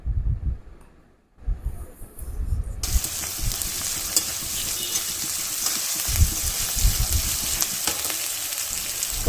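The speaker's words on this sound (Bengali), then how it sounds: "ওখানে ম্যাগির জন্য পেঁয়াজ লঙ্কা ভাজা হচ্ছে" Onion and chili fry in a pan for Maggi noodles, a steady close sizzle that starts after a brief quieter moment with some clatter and then hisses continuously.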